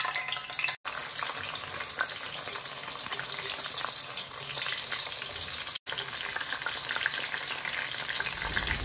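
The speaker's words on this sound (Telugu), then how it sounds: "ఉల్లిపాయని కొంచెం గోల్డెన్ బ్రౌన్ కలర్ వచ్చే వరకు వేయించుకోవాలండి" Onions fry in oil with spices for chicken biryani, a loud, continuous, close sizzle that runs without a break except for two abrupt momentary dropouts.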